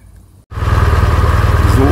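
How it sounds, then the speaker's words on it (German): A BMW R1200/1250 GS boxer motorcycle engine starts up and runs to warm up before an oil change, a close, loud, steady throbbing idle following a brief quieter moment, with a voice talking over it. "So, der Motor läuft warm."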